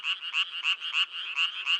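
Frogs croak in a rapid, steady series of pulsed calls, repeating about every third of a second. The calls are clear and fairly close, with no voices.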